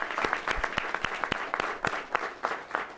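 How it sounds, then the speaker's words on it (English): A small crowd claps at a DC Convention Center event with Mayor Bowser, the individual hand claps sharp and distinct, close by and steady for a few seconds. "So give our mayor a big round of applause."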